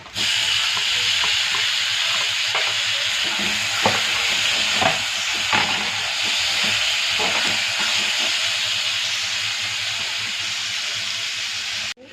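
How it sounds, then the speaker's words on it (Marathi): Onion and tomato are being sautéed in a pan for a Marathi sukat chutney, giving a steady close sizzle and hiss throughout, with scattered stirring scrapes and clicks and no talking. "हा कांदा चांगला परतून घेऊया आपण"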